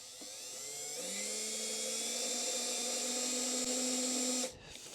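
A power drill drives a screw into the wood of a beehive feeder box, its motor whine rising in pitch and then holding steady for several seconds before cutting off abruptly, close and alone.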